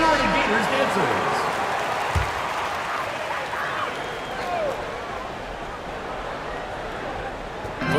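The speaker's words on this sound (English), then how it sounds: "Let's give them a round of applause for the Florida Gators dancers." Crowd applause and cheering fills a basketball arena during a PBA Philippine Cup game in Manila, Barangay Ginebra versus Magnolia, a steady broad roar that holds for the whole stretch with a few sharper thumps near the start.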